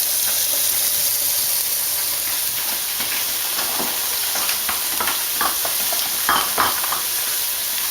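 Food broken into small pieces and stirred in a hot pan with garlic and onions, a constant hissing sizzle with scraping and tapping of a utensil, close and fairly loud.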